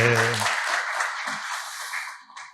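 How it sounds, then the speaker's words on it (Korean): A church congregation claps in encouragement at a Sunday worship service, a brief burst of applause heard fairly close, starting over a trailing voice and fading out within a few seconds. "우리 잘 갔다 오라고 우리 격려의 박수 한번 쳐주겠습니다"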